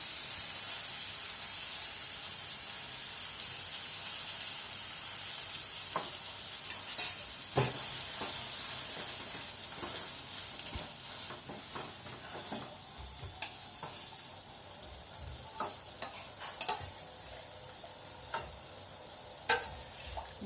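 A spoon stirs boiled dal into a sizzling tadka in a home kitchen pan, steady frying hiss with scattered scrapes and clinks against the pan, faint and close, growing busier toward the end.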